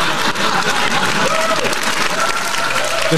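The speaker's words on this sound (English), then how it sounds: "clapping" An audience claps steadily on a podcast episode, a dense, even patter of many hands lasting a few seconds with a faint tonal hum running underneath.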